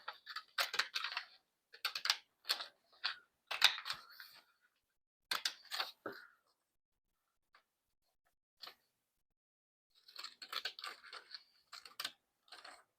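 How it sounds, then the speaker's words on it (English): Paper affirmation quote cards being cut out for a handmade booklet, heard as close, crisp snipping in quick bursts with a long quiet stretch in the middle, no talking. "So we're going to cut these out."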